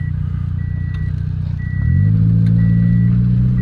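A car engine idling steadily, then revving up as throttle is applied around the midpoint, settling into a louder, higher sustained drone, close and alone.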